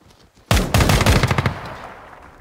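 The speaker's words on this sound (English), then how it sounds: "There's somebody shooting at me from far away." Rapid automatic gunfire in the tactical shooter Ground Branch, a loud close burst of about a dozen shots that bursts out after a quiet moment and then rings out into a fading echo.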